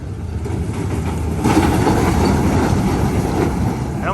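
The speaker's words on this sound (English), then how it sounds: "see if we can spot one cruising on by. The crazy runaway trains" A runaway-train roller coaster at Disneyland rumbles past nearby, a steady rolling roar that swells about halfway through and holds to the end.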